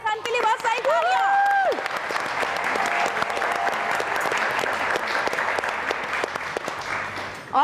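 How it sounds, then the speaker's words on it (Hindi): A voice calls out briefly, then a TV studio audience breaks into sustained, loud applause that continues steadily to the end. "वेलकम बैक नादिया खान के लिए बहुत सारी तालियां।"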